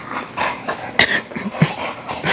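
An American Bully dog vocalizes loudly at close range at a dog show, a string of whiny yips, grumbles and whimpers in quick bursts with heavy breathing between them.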